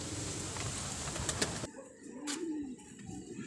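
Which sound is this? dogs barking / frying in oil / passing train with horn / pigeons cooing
pigeons cooing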